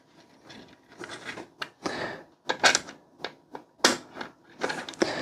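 Screws being tightened while a Thermalright Frozen Prism 360 CPU cooler is installed: a run of short, separate clicks and scrapes of metal and tool at close range, uneven in rhythm, with no talk.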